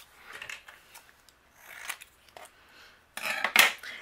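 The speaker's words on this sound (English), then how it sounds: "I'm gonna go ahead and trim this away." Scissors trimming a piece of cardstock up close: a series of crisp, papery snips and cuts in short bursts, the last ones loudest, with no talking.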